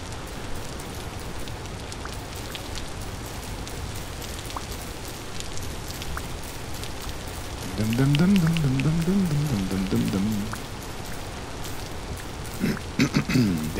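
Steady rain falls throughout in the video game Vintage Story, a continuous dense patter on surfaces, with a brief melodic game tone near the end and no talk.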